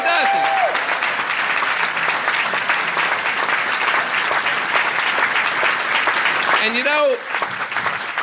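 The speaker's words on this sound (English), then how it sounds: "Give yourselves a round of applause." A packed town hall audience at a New York Democratic Party event claps loudly and steadily, the dense applause filling the room before thinning out near the end as a voice begins to speak.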